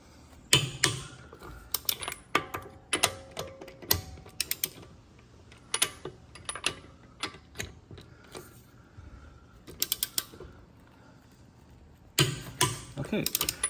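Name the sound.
torque wrench tightening lug nuts on a Tesla Model 3 wheel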